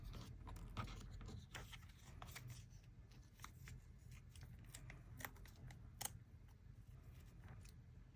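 Scissors snip through paper while cutting layered circle tags, giving a series of short, crisp clicks and rustles at close range in a quiet craft setting.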